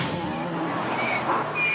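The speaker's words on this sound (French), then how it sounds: "il s'énerve dès qu'il entend le moteur de cette voiture" A neighbour's car engine running close by, a steady broadband motor hum with faint tonal whine, continuous and fairly loud with no one talking.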